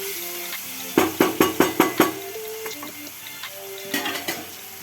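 Ginger fries in a pan for a fenugreek and lentil curry as a spoon scrapes and knocks against the metal in a quick run of about six sharp strokes, then a softer few, over a low steady sizzle.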